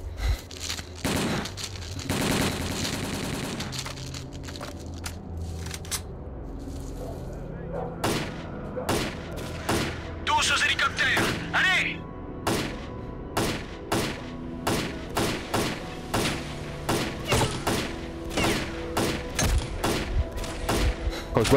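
Gunfire in the shooter game S.T.A.L.K.E.R.: Call of Pripyat: a sustained burst of automatic fire, then a long series of sharp single shots and short bursts at a steady rhythm, loud and punchy, with people talking over parts of it.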